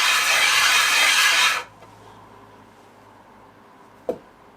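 A desert ironwood burl is rubbed by hand on an abrasive sheet in a rotary motion, giving a steady, close, gritty rasp for about a second and a half. It then stops, leaving quiet room tone and one short tap.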